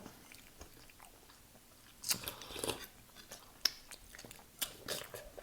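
Fish head being chewed at close range, with soft crunching bites and wet mastication sounds in quiet irregular bursts and no talking.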